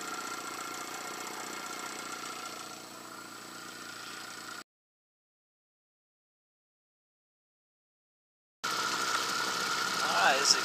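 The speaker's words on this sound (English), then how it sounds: "Settles back down to a real nice idle." A Johnson 15 outboard engine on a 2005 River Hawk B-52 boat idles steadily at moderate volume, breaks off into silence for several seconds, then the running engine returns.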